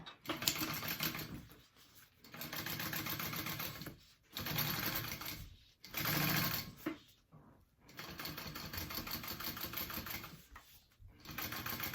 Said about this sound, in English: I'm gonna top stitch that top panel